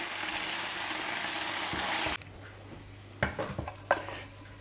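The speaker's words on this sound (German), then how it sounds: "Ich brate die jetzt nur ein bisschen an, damit ich hier schön Röstaromen bekomme" Chicken breast pieces searing in a hot frying pan, a loud steady sizzle for about two seconds that drops off abruptly, followed by a few close clatters of a utensil moving the meat against the pan, with no voices.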